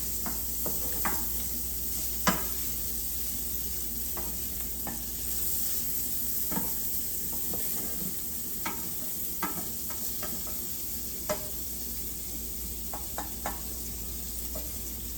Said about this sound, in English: All the butter is almost melted. And the vermicelli is browning.